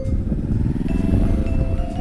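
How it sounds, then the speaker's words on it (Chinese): A manual-gear motorcycle pulling away in first gear with throttle applied, its engine a steady, close, low-pitched drone that holds without break and carries no talk. "在动的时候呢，吹点油门"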